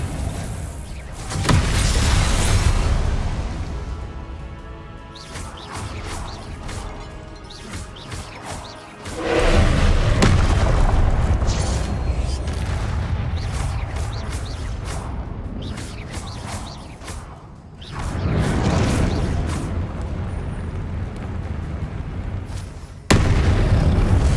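Confringo blasting spells from Hogwarts Legacy erupt as several loud, booming explosions in separate bursts, each a broad roaring blast with rumbling tails and short gaps between, ending on a sharp final pop.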